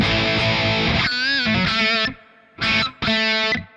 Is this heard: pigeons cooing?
no